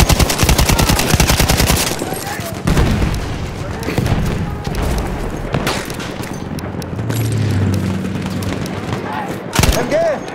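Machine gun fire in Battlefield 1 on the Giant's Shadow map, loud rapid bursts up close alongside booming explosions and battlefield clatter, with voices calling out in between.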